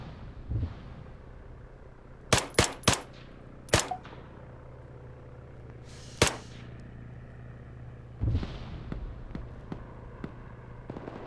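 M14 DMR rifle fire in the Arma 3 video game: a few sharp, loud single shots in quick succession, then isolated cracks and distant rumbling over a quiet background.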